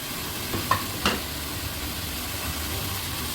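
Chopped tomatoes and green chillies hitting a sizzling mutton liver kaleji masala in a pan, a couple of clattering knocks over a steady, moderate frying hiss.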